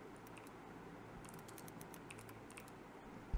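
Keys clatter on a computer keyboard in a quick, uneven run of soft taps, close and fairly quiet against a faint background hum.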